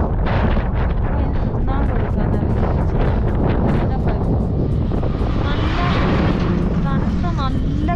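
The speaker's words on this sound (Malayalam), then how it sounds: "നല്ല കാറ്റടിക്കുന്നുണ്ട്." Strong wind roars and buffets the microphone on a long-distance cycling trip, a loud continuous rumble with gusty flutter and no clear voices.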